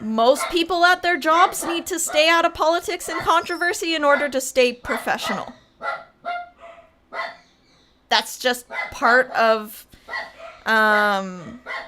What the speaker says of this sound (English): sorry about the dog, yeah.